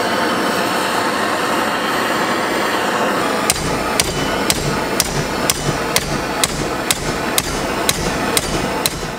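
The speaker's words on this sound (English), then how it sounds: "It only took about two blades to realize that hammering was not the most effective way to bend these plates" Heated scrap metal plates being hammered into tiller blades: after a stretch of steady background noise, sharp metallic hammer strikes ring out at a regular rhythm, about a dozen close, loud blows.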